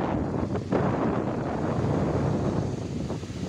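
Strong wind buffets the microphone over a steady roar of big waves at Damas beach in Karanggandu, Watulimo, Trenggalek, a continuous loud rush with no voices.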